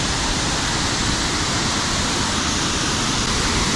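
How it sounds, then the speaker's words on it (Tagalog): Loud rushing water near a cave in Taiwan, a steady broadband roar like a waterfall or torrent filling the whole scene without pause, close and heavy, with no talk over it. "Kaso kay kagahod, gahod ka tubig."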